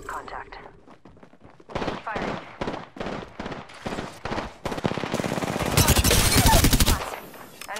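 Automatic gunfire in the battle royale game Apex Legends fires in loud, fast bursts that swell into a dense, sustained volley near the end, with voices talking over the shooting.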